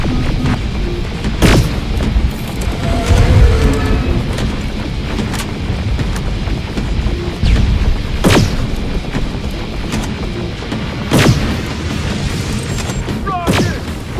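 Gunfire and heavy booming explosions during a firefight against a Terminator robot in Terminator Resistance, repeated sharp blasts over a dense, loud battle din with shouted voices mixed in.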